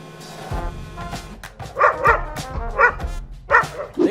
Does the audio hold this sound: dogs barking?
yes